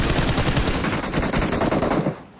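Rapid automatic gunfire spray from a battle royale video game, a loud continuous burst of shots that cuts off near the end, with no talking.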